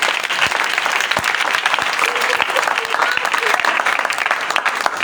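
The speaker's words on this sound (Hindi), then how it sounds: "जी तालियां बजा सकती हैं।" A crowd claps steadily and loudly throughout, a dense, continuous round of applause with no break.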